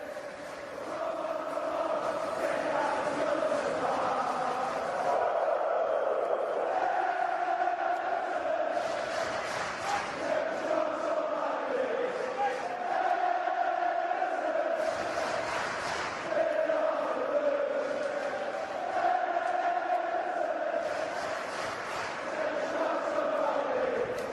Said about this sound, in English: These celebratory scenes from the Everton fans continue at the King Power Stadium